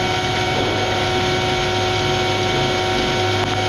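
Steady, loud roar of Boeing 777-300ER jet engines heard from the cockpit during takeoff rotation, a dense unbroken drone with a constant whine on top.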